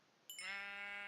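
A single short sheep bleat from the game Minecraft, clear and fairly close, starting after a brief quiet moment and holding steady to the end.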